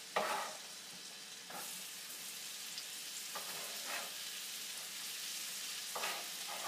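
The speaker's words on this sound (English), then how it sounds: "Okay, the butter's almost melted. Here I am with my Rachel Ray spoon. And then I put in my shallots." Shallots sizzle steadily in melted butter in a pan, with a few scraping stirs of a spoon breaking through the constant close-up frying hiss; no one speaks.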